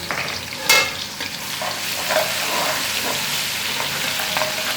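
Crushed garlic sizzles and crackles steadily in hot oil, close by, with an occasional scrape of stirring near the start.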